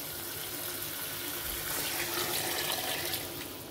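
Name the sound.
pouring broth water into pot of beef curry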